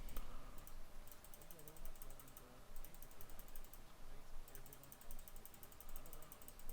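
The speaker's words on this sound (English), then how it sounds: "we do a lot of spam clicking" Rapid computer mouse clicking during a video game quest: fast, steady bursts of light clicks repeating through the whole stretch, close and clear over a constant background hum.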